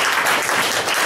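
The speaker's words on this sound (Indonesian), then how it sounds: "Tepuk tangan untuk Prudential." A brief burst of dense audience applause, loud and close, a steady wash of clapping without pauses.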